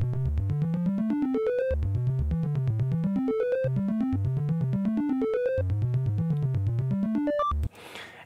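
A synth loop with a 909 kick, built from stock Logic Pro plugins in the style of a track from The Social Network: a steady, rapid pulsing arpeggio that rises and falls in repeating phrases, then stops abruptly into a brief noisy tail.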